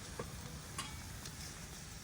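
Maple sap boils hard in an open pan over a hot wood fire outdoors, giving a constant loud hiss and bubbling with a few faint clicks and pops.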